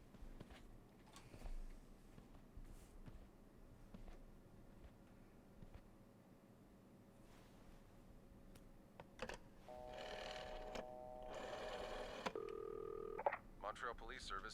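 Phone keypad tones being dialed in the video game This Bed We Made, a short run of electronic beeps in the last few seconds after a quiet stretch of faint ambience and soft movement.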